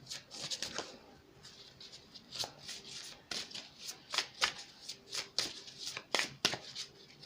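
Tarot cards are shuffled up close in a series of crisp riffling and slapping bursts, uneven in rhythm and moderately loud.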